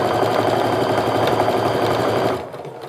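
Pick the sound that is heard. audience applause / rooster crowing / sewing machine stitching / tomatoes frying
sewing machine stitching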